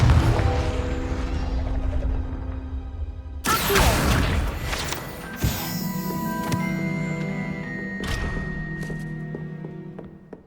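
A Confringo blasting spell cast in Hogwarts Legacy bursts out as a loud, sudden explosive boom over a tonal music bed, followed by ringing magical tones and a second sharp impact.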